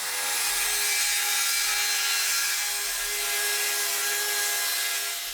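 Circular saw ripping through a wooden 2x12 board, a steady broadband whine and rasp that holds loud and continuous for the whole stretch, with no voices.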